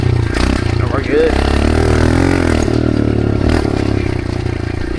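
Dirt bike engine running steadily and loud throughout, a continuous close rumble with slight revving swells while riding in the desert.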